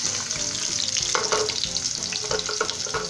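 Garlic and onion tossed into hot oil crackle and sizzle loudly right up close, while scraping and stirring sounds break in along with the frying.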